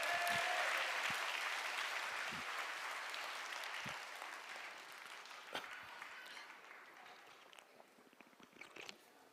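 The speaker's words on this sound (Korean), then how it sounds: "감사의 박수 올려드립니다" Church congregation applauding in thanks during a service, broad clapping that is loudest at the start and gradually fades away, heard alone at moderate distance.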